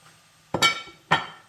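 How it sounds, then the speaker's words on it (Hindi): Chopped almonds and ground nuts tipped into a kadhai of panjeeri, making two short, close clattering bursts about half a second apart with no voices. "अब मैं इसमें बादाम वगैरह डालूँगी, जो सारे मैंने नट्स पीस लिए थे।"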